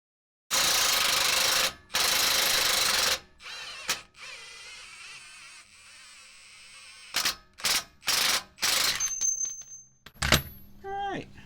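Removing a Jeep JK track bar with a wrench: bursts of loud ratcheting and whirring from a tool, separated by pauses, followed by short clinks and metallic scrapes.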